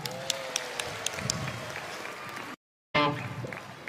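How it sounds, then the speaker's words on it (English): An audience at a live Wiggles children's show claps and cheers, a dense, lively wash of applause with voices over it, broken by a brief silent gap before the clapping resumes. "Give yourself a big clap."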